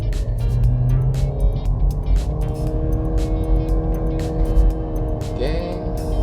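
2014 Nissan Grand Livina X-Gear accelerating from 0 to 100 km/h, heard from inside as a loud engine drone climbing through the gears with a shift near the end, a voice speaking briefly over it.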